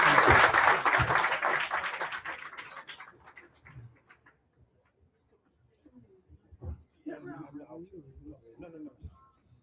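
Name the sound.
audience applause for panelists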